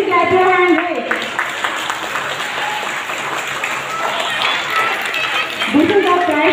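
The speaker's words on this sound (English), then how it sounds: "Please clap your hands" An audience at a school Independence Day celebration claps as medal winners are honoured, with steady, dense applause filling the room, a voice speaking briefly at the start and again near the end.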